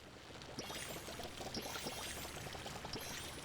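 Water pours steadily and softly onto crops in the farming video game Palia, a continuous low splashing trickle with no talk.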